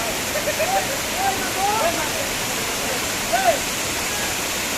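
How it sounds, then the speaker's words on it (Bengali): Water tumbling down a hillside waterfall at Jaflong, Sylhet, makes a steady, loud rushing hiss throughout, with faint distant voices rising briefly over it. "এই হচ্ছে ঝর্নার পরিস্থিতি এখানে"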